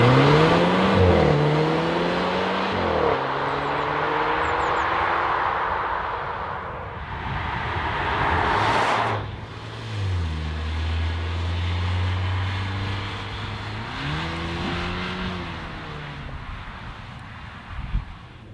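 A Mercedes A250 Sport with a 2-liter, 218-horsepower engine drives along, its engine note rising and falling through several gear changes under steady road and wind noise, with no talk.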